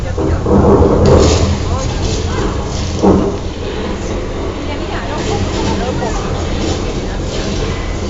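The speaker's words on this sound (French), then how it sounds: "Déclenchez la pluie." Steady, loud rushing of artificial rain on a film set, like a heavy downpour close by, with low rumbling and some voices faintly under it.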